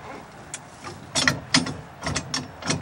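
A motorcycle stand arm is latched down, giving a handful of sharp metallic clicks and clunks spaced across a few seconds, the loudest pair in the middle, close and fairly clear over low background noise.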